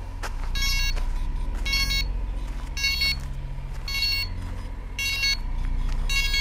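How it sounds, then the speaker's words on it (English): A DJI Inspire 1 drone beeps repeatedly in short electronic bursts about once a second, over a steady low hum of machinery. "It's beeped a few times, and now it's beeping continuously."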